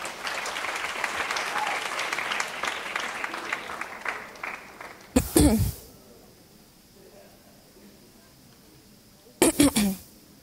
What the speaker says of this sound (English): can I have a lofty round of applause for Karina Rodriguez?